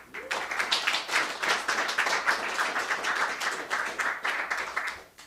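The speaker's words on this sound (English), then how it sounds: "a round of applause to you guys for making me a really happy guy tonight" An audience at a Christmas show applauds steadily for about five seconds, dense clapping that fades out at the end.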